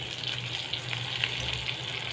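Ginger, garlic and green chili paste frying with tomatoes in a pan while cooking jackfruit seed curry, a steady close sizzle with faint stirring and no talk.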